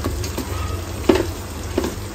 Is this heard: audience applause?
no